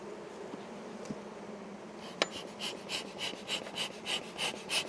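Honey bees buzz at a hive in soft pulsing waves over a steady low background hum, with a sharp click partway through; no voices.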